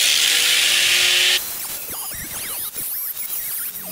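A small piece of wood is cut with a power tool while a composting toilet goes into a travel trailer: a loud, steady whining buzz runs for about a second and a half, then cuts off, and clattering handling noises follow.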